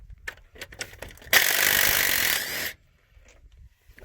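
A ratchet works loose the last bolt during a Duramax engine teardown, giving a quick series of rapid clicks, then a steady, close grinding whir lasting over a second before it stops.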